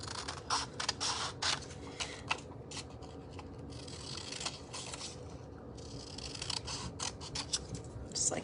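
Scissors snip repeatedly in quick, irregular crisp cuts through thin paper wrappers, close up, with soft rustling between the snips.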